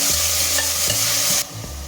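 Onions with curry leaves sautéing in a pan for vegetable kurma: a steady loud sizzle with scraping stirs, the sizzle dropping slightly near the end.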